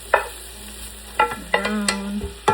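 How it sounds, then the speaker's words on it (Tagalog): Browned beef for a beef stew is dropped into a pot, giving a few short sizzling bursts and stirring scrapes spaced out over a couple of seconds, close and moderately loud with no talk. "ilagay na natin yung beef. Yung beef na nag-brown na kanina"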